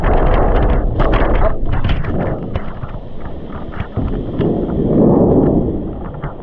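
Strong gusting wind roars and buffets the microphone during a fierce storm with heavy rain, surging and easing in waves, swelling loudest near the end.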